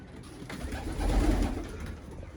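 Soft, low cooing from homing pigeons and their young nearby, a brief murmuring call that swells and fades against quiet background noise.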